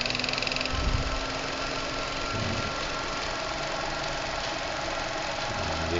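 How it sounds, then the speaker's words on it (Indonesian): A small alternator rotor run on 6 volts drives a loaded e-bike wheel, giving a steady mechanical whir and hum with faint rhythmic knocking, close by and continuous. "Ini rotor ini hanya menggunakan 6 volt, tapi kuat ya untuk memutar roda ebik dengan beban"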